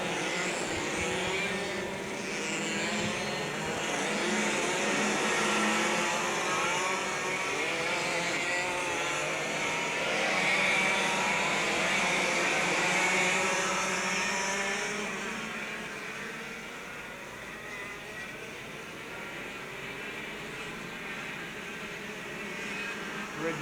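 Racing karts circle a track on the warm-up lap of a 1993 cadet and junior TKM kart race, a steady, loud buzzing engine drone that swells and fades slightly as the pack passes, with no talk.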